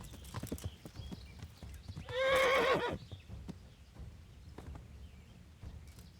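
A horse whinnies in a video game, one clear rising-and-falling neigh of about a second in the middle, set among faint clip-clop hoofbeats and soft game background sounds.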